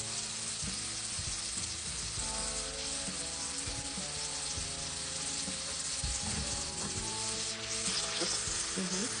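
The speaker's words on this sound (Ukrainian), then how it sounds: "Випарити на половину вину" Steady sizzling and bubbling of wine simmering and reducing in a hot pan while cooking rabbit, continuous and close, with occasional stirring scrapes.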